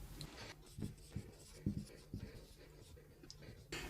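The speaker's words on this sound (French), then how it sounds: "Je vous les écris." A pen writes on a board or paper in short, close scratching strokes with small taps, quiet and irregular, with no talking over it.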